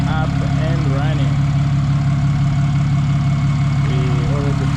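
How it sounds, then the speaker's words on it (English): A Nissan Navara V9X diesel engine, freshly reinstalled, idles with a steady low throbbing hum, close and constant throughout, a voice speaking over it at moments. "we have the engine up and running"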